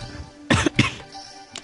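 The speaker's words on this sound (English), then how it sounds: "Cough, cough." Someone coughs twice in quick succession, loud and close, followed moments later by a fainter short cough or throat-clear.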